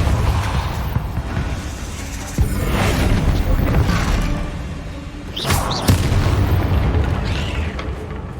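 A Depulso force spell from Hogwarts Legacy, cast during a fight with spiders, lands as booming blasts within a dense, constant roar of combat noise, with sharper bursts near the middle and toward the end.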